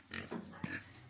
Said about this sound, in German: Und die Schweine.